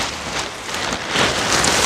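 Hail and rain come down in a steady, dense hiss of pelting drops, close and fairly loud, swelling slightly toward the end.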